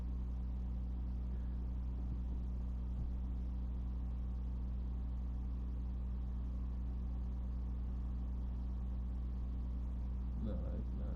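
Number 16 race car in a NASCAR video game: an engine drones low and steady throughout, quiet and unchanging, with a faint stir near the end.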